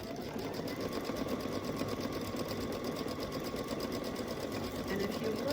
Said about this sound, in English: Foot down, needle down, hit my gas, and it's going to move over and start stitching that first one.